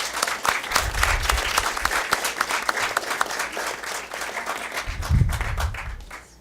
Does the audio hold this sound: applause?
yes